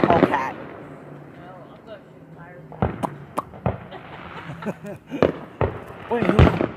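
Fireworks go off outdoors, a scattered series of sharp bangs and pops near and far, mixed with people talking throughout.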